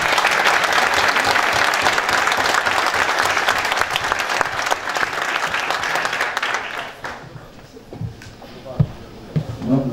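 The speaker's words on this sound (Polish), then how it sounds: "Brawa, dostałeś ładne." An audience applauds a football player being introduced at a club presentation for a third-league Polish team, loud dense clapping that fades after about seven seconds into scattered claps and crowd noise.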